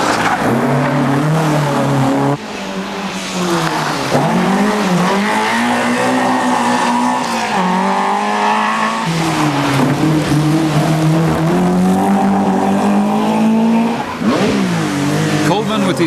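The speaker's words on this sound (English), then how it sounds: "Welshman David Appleby in the big Rover is caught on stage by England's hard-charging Ian Donaldson in the Sunbeam" Rally cars race through a stage of the 1985 Cork 20 International Rally, including a Rover and a Sunbeam. Loud engines rev and shift continuously with occasional tyre squeal, close by, while commentary runs throughout.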